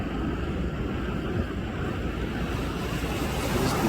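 Waves crash and splash over a racing ski boat at sea during an offshore boat race, heard as dense, steady roaring wash with wind buffeting the microphone.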